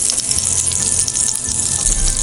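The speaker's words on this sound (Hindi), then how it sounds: "अब इन्हें पलट कर दूसरी तरफ से भी इसी तरह गोल्डन कलर आने तक फ्राई करेंगे।" Pakoras deep frying in hot oil, a loud, dense, continuous crackling sizzle that fills the whole stretch without pause, close up and with no voices.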